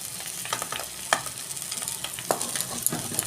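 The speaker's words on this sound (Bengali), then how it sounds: "দেখুন বন্ধুরা, আমি মাছগুলো উল্টে দিচ্ছি।" Fish frying in oil in a wok as the pieces are turned: a close, crackling sizzle is broken by sharp scrapes and clatters of a utensil, with no voices.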